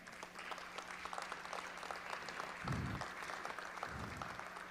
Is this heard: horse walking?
no